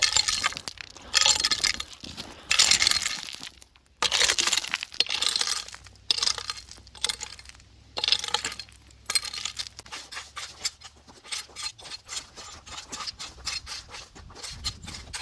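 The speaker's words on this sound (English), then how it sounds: "I really don't want these bigger rocks, so we're just sort of going to loosely scrape them away." Loose rocks and gravel scraped away by hand and tool during gold prospecting over hard conglomerate, a run of close, gritty rasps, clinks and stony clatters in uneven bursts with brief pauses, no talking.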